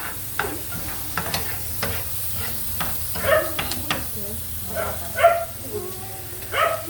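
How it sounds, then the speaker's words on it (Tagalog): Onions are stirred and sautéed in a pan with a soft continuous sizzle and repeated close scraping and clinking of a utensil. A voice is heard faintly at moments under the cooking sounds. "kapag maghahalo ka ng sibuyas, kailangan, wag mo lang siya stay put kasi baka may chances na masunog"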